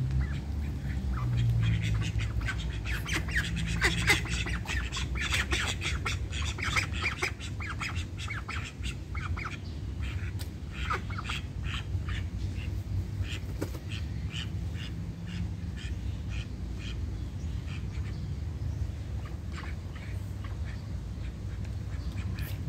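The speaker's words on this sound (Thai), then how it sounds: "นี่เป็ดน่ารัก" A group of six small ducks quacks and squawks continuously at close range, a busy overlapping chorus of harsh calls over low background rumble.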